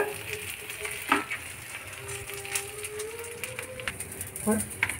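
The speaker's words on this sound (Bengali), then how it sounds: "পরের ব্যাচটাও ঠিক এইভাবেই ভেজে নেব" Onion-stalk and prawn patties sizzle steadily in hot oil in a home kitchen pan, with occasional sharp crackles and pops. A voice talks faintly in the background.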